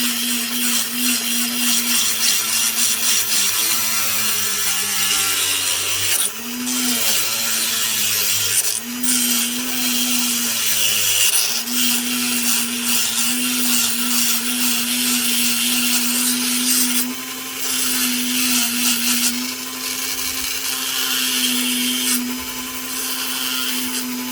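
A Dremel rotary tool grinds through a rough opal picture stone with a loud, steady high-pitched whine, the pitch dipping briefly whenever the bit bites harder into the stone.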